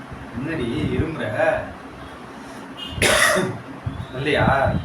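A woman coughs instead of sneezing during a snuff sneezing challenge at home, a few short harsh coughs close to the mic, with speech around them.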